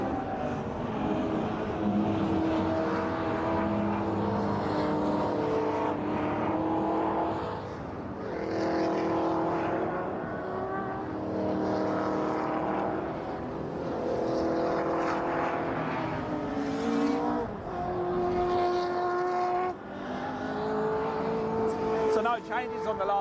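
MG race cars howl around Druids at Brands Hatch, engines rising and falling through gear changes as the cars pass in waves, under a commentator's running voice.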